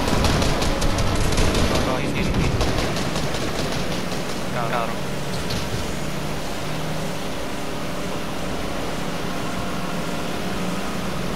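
A boat engine in the Fortnite video game, a steady, noisy motor drone with rushing water or wind hiss, while players chat over it.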